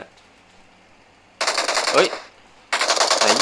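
Automatic gunfire in the mobile battle royale game PUBG Mobile, two loud sustained bursts of rapid shots separated by a brief pause, with a voice talking in between.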